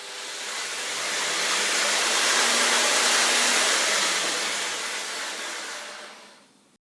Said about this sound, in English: I'm taking my mixer and I'm just going to mix it for 1 minute.